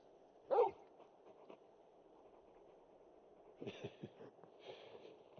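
Torgal, the large wolf-like dog in Final Fantasy XVI, gives one short bark, then a few faint snorts and soft whimpers in an otherwise quiet game scene.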